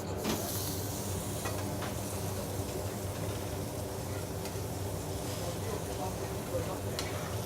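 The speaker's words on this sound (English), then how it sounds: "all I'm going to do is to get it in the pan, a red hot scorching pan" Meat sears in a red-hot scorching pan, giving a loud, steady close sizzle that continues without a break, with light stirring or shifting noises.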